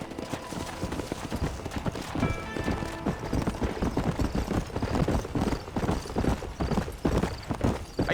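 Horse hooves trot in a steady clip-clop rhythm across dirt in the Western video game Red Dead Redemption, continuous and moderately close, with a faint whinny and ambient game sounds behind.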